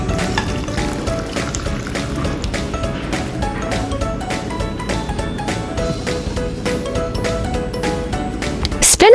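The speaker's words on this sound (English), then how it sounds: "Pour soup into soup bowl." Spinach egg soup ladled into a soup bowl, with repeated clinks and scrapes of the utensil against the dish over a soft liquid wash, steady and close throughout.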